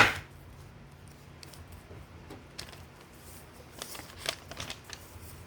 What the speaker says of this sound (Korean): 반쪽으로 이렇게 접어주세요. 반대쪽도 똑같이 접어주세요.